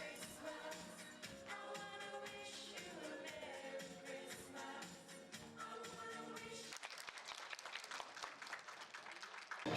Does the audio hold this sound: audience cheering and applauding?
yes